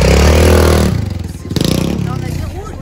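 A mini motorcycle revs hard up a small, gently curved dirt ramp dug with a shovel, the engine roaring loud and close for about a second before dropping to a rough, pulsing idle and rising again.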